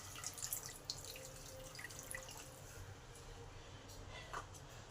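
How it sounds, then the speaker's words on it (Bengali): Water pours steadily into a cooking pan of spiced eggplant at moderate distance, a soft continuous splashing and trickling that fades slightly toward the end. "এবার বেশ কিছুটা জল দিলাম।"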